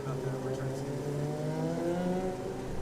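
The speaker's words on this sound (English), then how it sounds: "that's Civic SI on the gas" A Honda Civic Si autocross car accelerates out of a corner at a Lake Elsinore event, its engine note climbing in pitch as it pulls away, heard from a moderate distance with a commentator talking over it.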